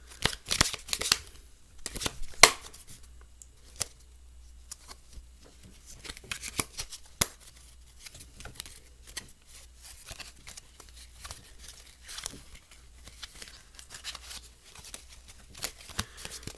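A thin Polyantha playing card deck is cut and shuffled by hand, with soft riffles, snaps and light slaps of cards in scattered bursts across a quiet background.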